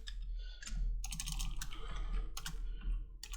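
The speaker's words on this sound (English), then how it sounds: "So you click on this, type in your name." Fingers type on a Chromebook keyboard in quick bursts of close, crisp key clicks with short pauses between, over a low background hum.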